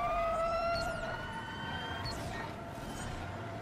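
An ambulance siren wails in the Watch Dogs 2 video game, its loud rising and falling tones sweeping repeatedly over a steady background of game noise, with no talking.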